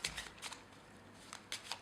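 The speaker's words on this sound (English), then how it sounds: "I'll give the deck few cuts just like that" A deck of playing cards being shuffled and cut during a magic trick, heard as several quick, crisp riffling bursts separated by short pauses, close by with no talking.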